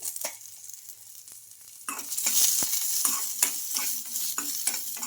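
Green chillies, finely cut ginger and cumin fry in oil in a pan, a steady close sizzle that grows louder midway, with a few scraping stirs and clinks against the pan.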